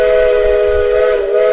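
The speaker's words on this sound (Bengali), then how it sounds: "শীতের ভারী বাতাসে করুণ হুইসেল বাজিয়ে ট্রেন ছেড়ে গেল।" A departing train's whistle sounds as a loud, sustained, mournful tone in a horror audio drama set on a cold winter platform, heard alone without talk.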